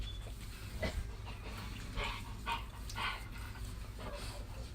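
A dog in an indoor room, excited and wanting to play, makes soft bursts of breathy panting and snuffling over a low steady hum, with no talk.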